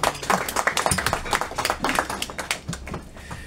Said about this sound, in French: Applaudissements pour Salah.